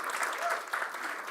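An audience at a GraphQL conference keynote applauds steadily, a dense, even patter of many hands clapping in a hall, continuous and moderately loud.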